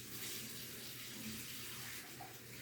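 Tap water runs steadily in a kitchen sink as hands are washed while cooking a cheesesteak pasta dish, a continuous, fairly quiet hiss with no talking.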